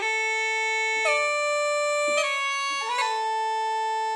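Dry bagpipe sample patch from the EastWest sound library, heard with effects removed: a steady reedy drone-rich chanter tone with three brief note changes and grace-note flicks, close and continuous with no talking.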